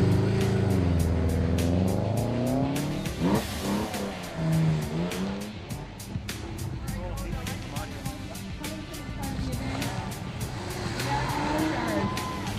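A Porsche rally car drives on a wet road during the Newfoundland Targa Rally, its engine revving and tires hissing under continuous loud talk from people nearby.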